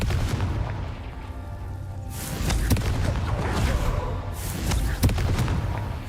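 Blasting spell explosions in Hogwarts Legacy, several sharp booms and thuds over a dense rumbling bed, fairly loud and close, with a few strong hits spaced about a second or two apart.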